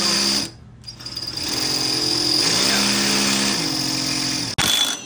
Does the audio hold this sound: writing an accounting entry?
no